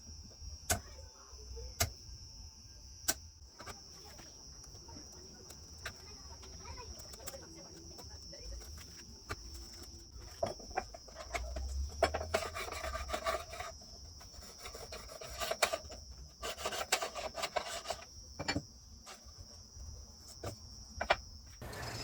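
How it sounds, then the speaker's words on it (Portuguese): Hand saw and chisel working wooden trim for an aluminium rail on a drill press table, with quiet rasping strokes and scattered taps against a faint steady background tone. "eu vou utilizar aqui serrote e formão para fazer esse corte"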